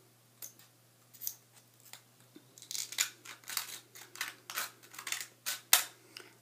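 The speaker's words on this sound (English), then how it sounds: "you're just going to want to really simply cut straight down the middle" Scissors cut straight down the middle of a piece of blowgun dart material, giving a string of close, crisp snips and small clicks in an irregular rhythm with no talking.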